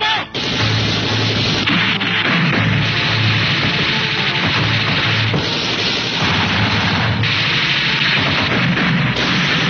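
Loud, dense gunfire crackles through an action-film shootout, with rapid repeated shots and booming blasts running almost without pause, close and harsh, and a few shouted voices in the mix.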